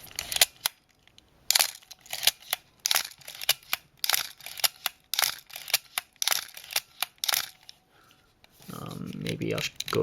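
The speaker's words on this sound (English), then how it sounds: "I'll let you guys hear the sound of the shutter again for the" A Nikon FG film camera shutter fires about a dozen times in a row, each a crisp, close mechanical snap at an uneven pace, followed by rustling handling noise at the end.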